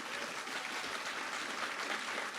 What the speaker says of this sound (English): Can we get a round of applause first and foremost?